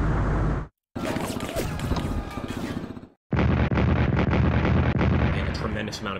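Artillery fire in the WWII Pacific strategy game Strategic Command: War of the Pacific, loud booming barrages in two long bursts split by brief silences, dense and continuous rather than single distinct shots.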